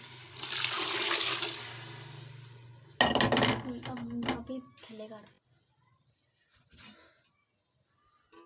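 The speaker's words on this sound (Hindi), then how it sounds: "अब मैं इसमें डाल दूंगी पानी" Water is poured from a vessel into a pot of dal, a splashing gush for about three seconds, followed by clinks of cookware and quieter kitchen handling.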